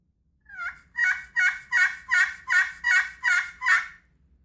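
A series of eight turkey yelps made on a turkey call worked with a striker, evenly spaced and loud, each note rolling over from a higher to a lower pitch, with no talking.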